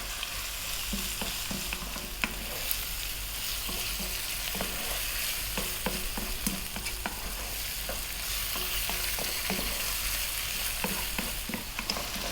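Bacon sizzles steadily in a pan in a home kitchen alongside chicken and dried oregano, with a constant close fry and repeated light scraping taps as it is stirred, with no talking.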